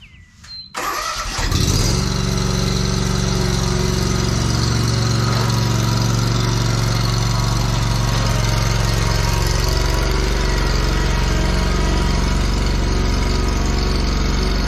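A lawn mower engine starts and then runs at a steady, loud drone near a 1989 Chevy K1500 pickup, with a short burst of noise before it settles into an even roar.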